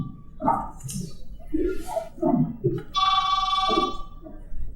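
A telephone bell rings during a staged horror play performance, a bright sustained ring entering after a few low thumps and shuffles, fairly close and loud.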